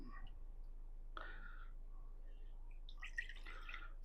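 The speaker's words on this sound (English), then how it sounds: "this container is a little over with the ice water, so I'm just going to pour off some of it" Ice water is poured off from an overfull container, heard as faint, quiet splashing and trickling in two short bursts with near silence between.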